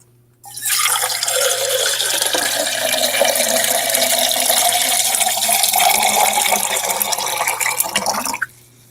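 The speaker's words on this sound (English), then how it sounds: "Just getting some water here." Water runs steadily from a tap into a container for about eight seconds. The rushing, splashing flow is close and constant, then cuts off abruptly at the end.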